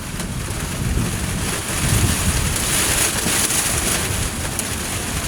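Heavy rain pours during a severe thunderstorm, a dense, steady hiss of drops on surfaces with low rumbling underneath, swelling slightly at times and continuing without speech.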